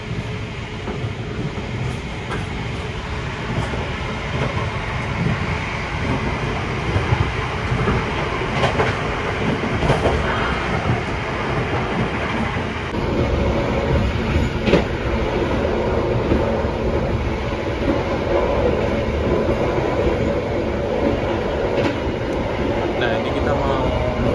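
A train passes through Wates station in Java, Indonesia, a loud, continuous rumble with rail clatter and rolling wheel noise that holds steady for over twenty seconds.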